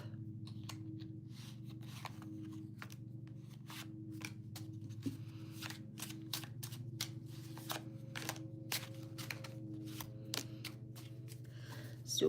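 A deck of playing cards is shuffled repeatedly in a quiet room, giving a run of crisp riffling bursts over a steady low hum, with a slightly louder clatter at the very end.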